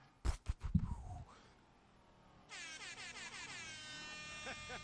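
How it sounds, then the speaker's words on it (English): Air horn blast played as a sound effect during a Grand Theft Auto V livestream, a loud sustained blaring tone in the second half, preceded by short bursts of voice and sound near the start. "Did you guys hear that air horn?"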